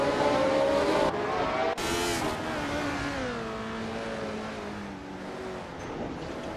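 Race car engines roar and rev in a racing video game with a Lotus 77 on track, loud and continuous, with pitch rising and falling through shifts and a long downward glide.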